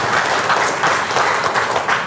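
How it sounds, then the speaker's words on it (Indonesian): An audience at a marketing seminar applauds together, a dense, steady burst of hand clapping that pulses slightly in intensity for a couple of seconds, with no speech over it. "Tepuk tangan buat kita semua sekalian ya."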